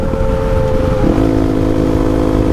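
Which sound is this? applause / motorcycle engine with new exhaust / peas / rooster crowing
motorcycle engine with new exhaust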